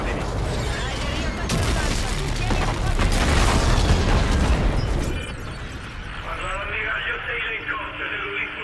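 Spaceship weapons fire in a space battle in the video game Call of Duty Infinite Warfare, a dense roar of blasts and rapid booms that fades into softer rumble, with voices talking throughout.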